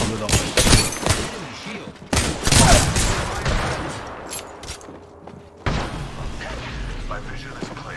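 Apex Legends gunfire rattles in loud, heavy bursts, with thudding impacts in several separate clusters and quieter gaps between them, while players talk over the action.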